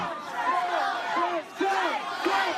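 Angry protest crowd shouting outside a venue, repeated loud yelling voices rising and falling in bursts, fairly close, with chanting-like cries over a crowd murmur.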